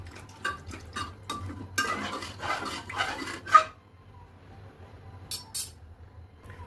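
Rice and water for matar pulao stirred in a pot, with a run of scraping, clinking spoon strokes against the metal that stop abruptly, followed by near silence and one final faint clink.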